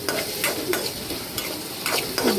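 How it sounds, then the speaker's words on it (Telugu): Onion and green chillies fry in a kadai for chicken fry, a close steady sizzle broken by several quick stirring scrapes. "ఆనియన్, పచ్చిమిర్చి అనేది ఇలా బాండీలో వేసుకొని ఫ్రై చేసుకోవాలి"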